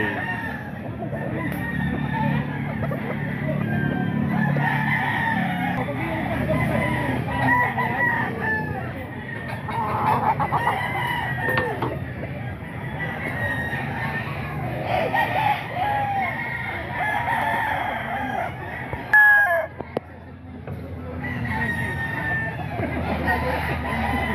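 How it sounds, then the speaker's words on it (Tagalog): Roosters crow repeatedly among clucking chickens and other fowl at a poultry seller's spot, a busy mix of calls near and far over a steady background murmur of voices. "Ito mga manok pala to ni Boss Albert na mga ka-idol oh"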